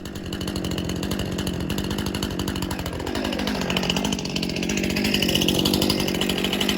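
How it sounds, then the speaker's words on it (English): A chainsaw bucks maple and ash into firewood close by, a loud continuous buzzing whine that bogs down and then revs back up as the chain works through the wood, with no talk. "let's get the saws fired up and we'll start bucking up this other load."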